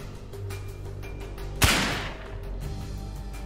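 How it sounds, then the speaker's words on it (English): A battery-powered prop gun fires a small explosion at the end of its barrel, giving one sharp, loud crack with a short noisy tail over a low steady background hum. "Hidden on the other side of the gun is a battery-powered mechanism that creates a small explosion at the end of the barrel when the trigger is"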